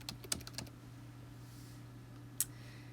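Typing on a computer keyboard while entering text for a Silhouette heat transfer vinyl design, a quick burst of soft key clicks at the start, then a single click later, over a steady low hum.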